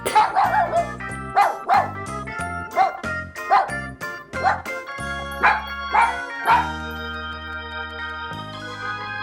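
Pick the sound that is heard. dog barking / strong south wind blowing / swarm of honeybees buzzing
dog barking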